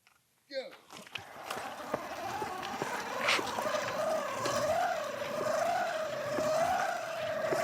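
Mini bikes powered by 79cc Predator engines racing side by side: a steady, buzzing engine whine that rises and wavers as they accelerate, with voices heard briefly at the start.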